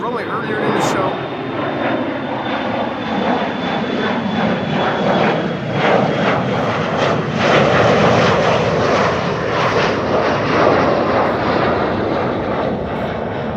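A fixed-wing airliner taxis across the airfield at Amsterdam Schiphol Airport, its engines giving a steady, loud roar that holds evenly throughout, with outdoor wind noise mixed in.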